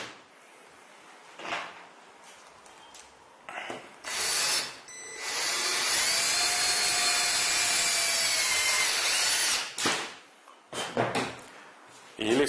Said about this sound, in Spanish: esta es la manera más sencilla de fijar un material, atornillándolo directo a la mesa